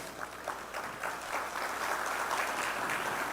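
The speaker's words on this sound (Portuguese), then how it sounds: "Vamos recebê-lo com uma salva de palmas." An audience at a freight terminal and transshipment panel session applauds to welcome the panel moderator onto the stage, a moderately quiet, steady patter of many hands clapping that builds slightly and carries on with no talking.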